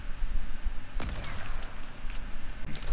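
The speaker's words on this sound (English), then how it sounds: "I'm shooting at the other people." Video game gunfire: a sharp shot followed by a scatter of rapid cracks and distant pops over a constant rumbling battle backdrop, loud and busy.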